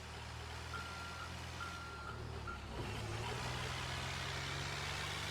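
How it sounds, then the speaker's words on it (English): A truck's reversing alarm in the GTA NoPixel roleplay game, three evenly spaced beeps over a steady low engine idle, then the engine note shifts and keeps rumbling alone. "Listen to the sound of that. That's the sound of an actual truck."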